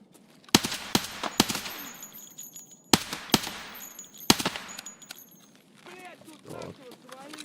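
Single-fire gunshots from a weapon in the video game Escape from Tarkov, several sharp, loud cracks spaced irregularly in short bursts, with a player's voice talking between and after the shots.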